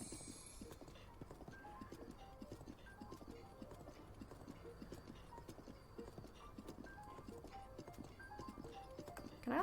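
Horse hooves clip-clop in the video game The Legend of Zelda: Breath of the Wild, a steady rhythmic trot of soft, faint hoof steps continuing throughout.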